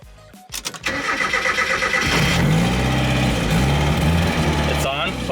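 Turbocharged Mazda Miata engine cranking and catching, then settling into a loud, steady running note close by, with people speaking over it.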